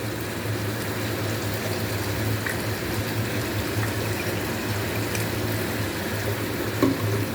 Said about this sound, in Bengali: তো এটার সাথে আমি এখন জলটা অ্যাড করে দিচ্ছি।